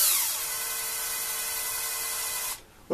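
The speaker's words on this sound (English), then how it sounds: "Also, drill slowly" An electric drill bores a hole into the plastic front panel of a Velleman Vertex K8400 3D printer, a steady high whine held for over two seconds before it stops abruptly.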